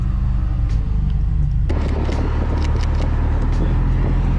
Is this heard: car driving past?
yes